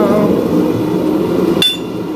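Small two-pound rounding hammers are handled in a blacksmith's shop, with a continuous low metallic rustle and one sharp bright clink near the end, close and fairly loud.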